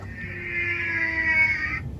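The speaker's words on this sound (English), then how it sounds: "That's whale." A recorded whale call plays from a button on an interactive display at Dubai Safari Park, one long, drawn-out tonal moan lasting under two seconds, clear and fairly close.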